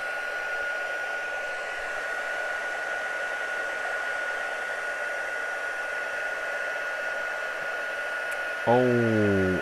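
Heat gun blowing hot air while a mini foldout journal is crafted, a steady broadband whoosh with a faint whine that runs through the whole stretch, ending in a brief rising harmonic squeal.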